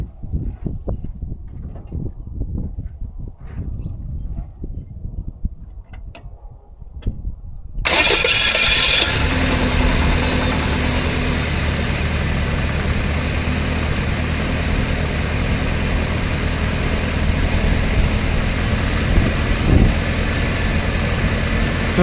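A Subaru Brat with a swapped-in WRX engine cranks and catches after a quiet stretch of faint outdoor insect chirping, then settles into a steady, fairly quiet idle that runs on without talk.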